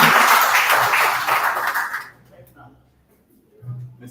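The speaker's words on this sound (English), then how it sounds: "let's give him a round of applause" Round-table audience applauds the mayor of Uvalde, a burst of clapping that fills the first two seconds and then cuts off, followed by near quiet and a low voice near the end.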